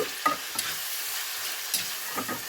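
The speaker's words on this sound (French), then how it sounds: "ici vous entendez l'huile qui ruisselle" Mango chunks sizzle in hot oil, a soft continuous frying hiss broken by a few louder crackles and pops, heard close with no speech.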